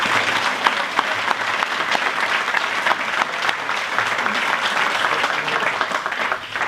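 Audience applause for award finalists at an energy excellence awards ceremony, a sustained dense clapping from a sizable crowd, steady and fairly close throughout.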